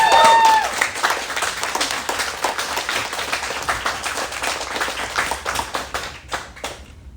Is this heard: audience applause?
yes